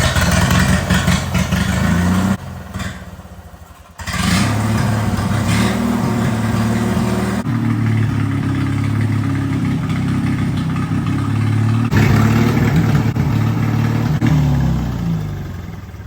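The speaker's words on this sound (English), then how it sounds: "And I'm going to turn up the idle anyway, just so this thing will stay running in the meantime." The 21HP twin engine of a rat rod racing mower idles with a loud, steady, rough rumble close by; the sound drops briefly and then resumes at a slightly raised idle, with no speech.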